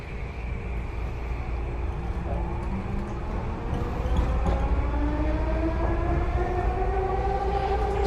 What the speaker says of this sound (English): And we'll ride the train a few blocks.